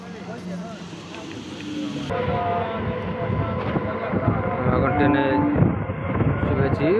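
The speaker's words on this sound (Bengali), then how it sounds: "তো ট্রেনে পুরো যাচ্ছি" A steady low rumble of a moving passenger train with rattling and rolling noise throughout, as voices talk over it.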